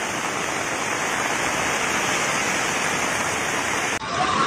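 Floodwater overflowing a river in Sukabumi roars as a dense, constant rush that is loud and unbroken, cutting off sharply near the end.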